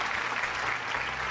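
Brief burst of steady clapping from a talk-show studio audience, dense and uniform for its whole length.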